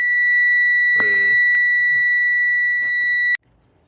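A digital multimeter gives a continuity beep while probing a wiring pin between the PCM and alternator voltage regulator on a 2011 Chevy Impala 3.5: a loud, steady, piercing single tone lasting over three seconds, then cutting off abruptly.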